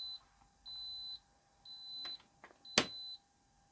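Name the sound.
refrigeration controller door-open alarm beeping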